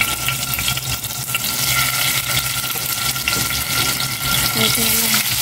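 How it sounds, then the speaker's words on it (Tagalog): Steady crackling sizzle of tofu frying in hot oil, continuous and close, with faint kitchen clatter in the background. "Prito ko na itong mga tokwa."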